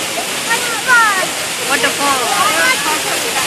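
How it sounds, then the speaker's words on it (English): An indoor waterfall inside a hotel, part of a fish-tank filtration system, pours in a steady loud rush with sloshing surges, while voices murmur faintly under the water. "The waterfalls in here are part of the filtration system."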